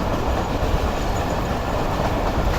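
Khyber Mail passenger train running on rails through Sindh, heard from on board as a loud, steady rumble with continuous wheel noise and faint clickety-clack rhythm.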